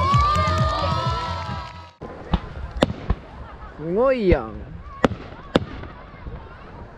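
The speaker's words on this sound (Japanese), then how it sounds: "やば花火" Fireworks crack and pop in several sharp bursts after a crowd's noisy chatter at a camping event, with people talking and exclaiming between the bangs.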